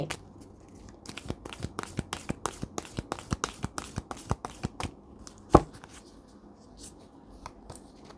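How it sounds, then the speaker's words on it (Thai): A deck of tarot cards is shuffled by hand in a quiet room, giving a run of crisp, evenly spaced flicks and riffles followed by a few scattered taps and one sharper slap near the end. "ดวงคนโสดนะอาจารย์จะเป็นตัวแทนสับไพ่"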